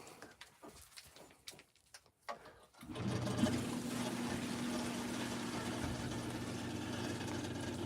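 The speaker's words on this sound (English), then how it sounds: "So, Nicole, you see how this water's coming in?" A sump pump switches on partway through in a flooding home's well, settling into a steady motor hum as groundwater flows in, after a few scattered knocks and splashes.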